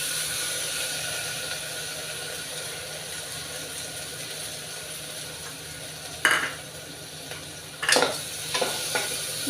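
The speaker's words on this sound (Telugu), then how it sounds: "కందిపప్పు కొంచెం వేయించుకోవాలి, ఒక 2 నిమిషాల పాటు వేయించుకోవాలి." Toor dal fries with onions in an oil tempering, producing a steady, even sizzle throughout, with a few sharp spoon-and-pan clinks from stirring near the end.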